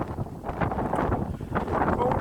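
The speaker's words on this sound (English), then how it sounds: "It's a bit windy, as you can hear," Wind buffets the microphone in uneven gusts, rumbling low and fluctuating in strength throughout.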